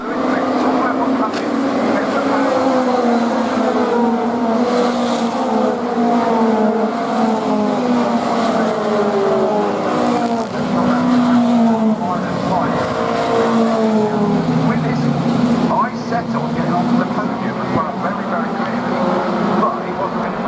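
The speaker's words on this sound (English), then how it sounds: "Race 1 got underway and the drivers were battling for position to all try and climb up the order early on." Intermarque Silhouettes race cars roar steadily around Brands Hatch, their engines droning and shifting pitch continuously for the whole stretch while a commentator talks over them.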